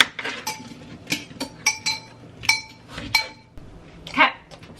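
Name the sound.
spoon stirring apples in a bowl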